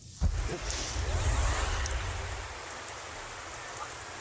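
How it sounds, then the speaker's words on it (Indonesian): Steady rain falls with a continuous broadband hiss of drops on surfaces, heavier and fuller for the first two seconds, then easing slightly while staying constant to the end. "Hujan di sini akan lama."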